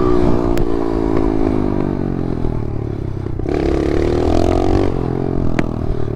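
A video game motorcycle engine roars steadily, revving up in the middle with some clattering, loud and close throughout.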